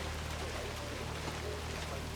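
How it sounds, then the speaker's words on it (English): Steady rain in the game Hitman 3, a dense continuous hiss of falling water heard close, with a low constant hum beneath and no voices. "Rain, rain, nothing but rain."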